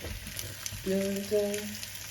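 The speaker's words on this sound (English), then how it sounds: "So here's 16 fish sticks in the pan." Fish sticks fry in a pan on high heat with a steady, soft sizzle, and a tonal hum rises partway through.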